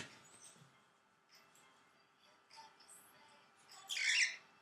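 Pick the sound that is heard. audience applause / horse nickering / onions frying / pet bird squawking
pet bird squawking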